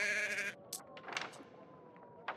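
Sheep bleating in the Roman-era survival game Surviving the Roman Empire, a few short bleats standing out over a steady tonal game backdrop, fairly close and clear.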